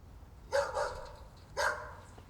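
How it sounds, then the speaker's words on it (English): A dog barks twice, about a second apart, each bark clear and fairly close with a short ringing tail. "Oh, dog barking."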